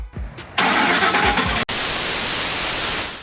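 A freshly rebuilt Ford truck engine cranks briefly, then catches and settles into a loud, steady roar, with no voices.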